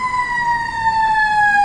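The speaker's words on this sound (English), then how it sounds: "We've got some sirens coming" Emergency vehicle sirens wail loudly just outside, a sustained, slightly falling tone that holds steady as they pass, with no talk over it.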